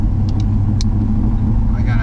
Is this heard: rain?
no